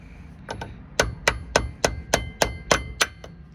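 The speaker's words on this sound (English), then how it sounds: "now I'm just going to tap it lightly to unseat it" Light metal taps on a Mercedes W163 ML front differential carrier as it is worked loose give about ten sharp, ringing clangs at a steady beat, close and clear, with no speech.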